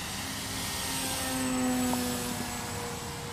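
An E-Flite Timber RC floatplane flies a pass over a river in the early morning, its steady electric-motor drone rising slightly as it nears and then easing off, heard on its own at moderate distance.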